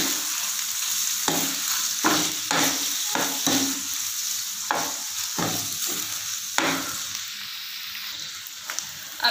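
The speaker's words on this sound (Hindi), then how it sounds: "इसको हम थोड़ा सा फ्राई करते हैं" Small chicken pieces, about half a kilo, fry in hot oil in a pan, giving a loud, steady sizzle broken by repeated scraping stirs at irregular intervals, with no talking.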